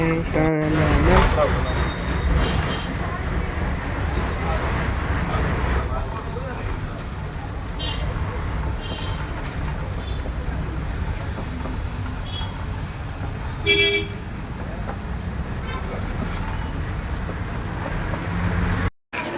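A bus rolls into Morbi amid road traffic, its engine rumble steady under surrounding noise, with a brief air-brake hiss or horn burst midway; a voice talks over the drive.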